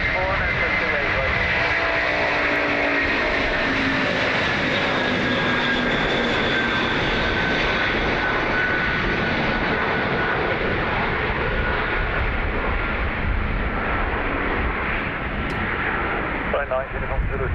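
An Antonov An-124 heavy-lift cargo jet at Dublin Airport produces a steady, loud, close engine roar that fills the whole stretch, with voices faintly underneath.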